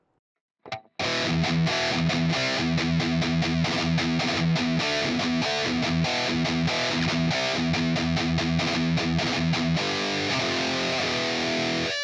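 Heavily distorted electric guitar through a Line 6 POD Express chugs out rapid palm-muted heavy metal riffs in a tight rhythm, loud and dense, after a brief pick scrape at the start.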